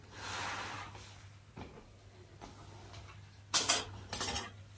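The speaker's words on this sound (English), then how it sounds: "lay out the cutlery." Metal cutlery is laid out from a box, starting with soft shuffling and light scraping, then a couple of sharp clinking clatters near the end, close and quiet, with no voices.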